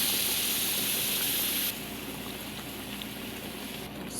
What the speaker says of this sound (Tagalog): Tapos, lagyan ko siya ng tubig.